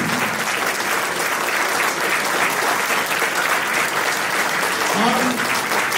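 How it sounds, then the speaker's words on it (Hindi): Loud, dense applause fills a seminar hall on becoming a good upline as the audience claps for themselves, steady and unbroken, with faint voices briefly audible beneath. "एक बार ताली बजा लीजिए अपने लिए"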